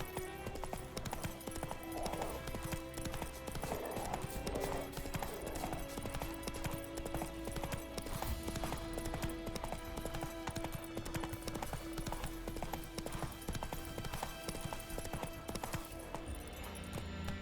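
Horse hooves galloping in the Witcher 3 open-world game, a steady fast rhythmic clip-clop running continuously over a low ambient game soundtrack, fairly quiet.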